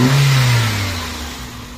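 A car engine revs once briefly and loudly up close, then its pitch and volume ease down toward idle.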